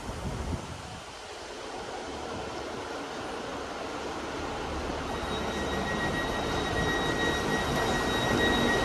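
A four-coach train at Cardiff Central station rumbles with a steady engine drone that slowly swells louder, a high whine emerging later as it prepares to pull away; no talking.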